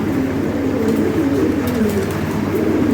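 A local pigeon from an imported bloodline coos in deep, rolling, repeated calls, close and fairly loud, with faint chirps from other birds in the background.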